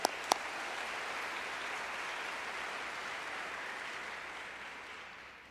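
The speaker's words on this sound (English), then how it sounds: "give them a round of applause" Steady applause from a large crowd at a law school graduation commencement for the class of 2022, even and distant-sounding, opening with a couple of sharp claps and fading slightly at the end.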